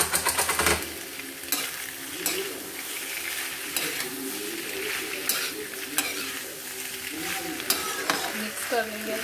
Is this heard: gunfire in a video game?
no